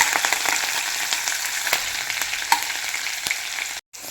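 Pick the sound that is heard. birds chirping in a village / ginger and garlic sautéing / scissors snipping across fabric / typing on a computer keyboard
ginger and garlic sautéing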